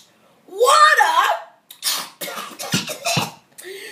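A reader's voice imitates a character coughing, gagging and sputtering: a strained, rasping gag followed by a burst of short, harsh coughs, close and loud, with no other talk.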